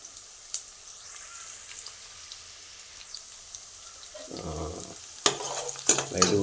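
Onions, green chillies and fenugreek powder are stir-fried in a pan, a faint low sizzle for several seconds followed by louder scraping and clattering stirs near the end.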